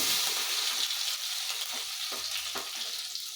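Cumin seeds and crushed garlic dropped into hot oil for a bitter gourd palya, giving a loud, steady close sizzle and crackle with a few stirring scrapes and no talking.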